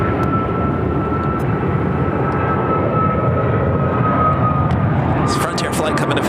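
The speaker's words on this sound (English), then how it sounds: "It's an A320 Neo." A Frontier Airlines Airbus A320neo arrives at Phoenix airport, giving a loud, steady broadband jet roar with a sustained whine, close by, while voices talk over it.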